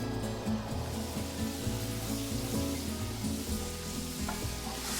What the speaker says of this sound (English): When you hear it sizzle like that,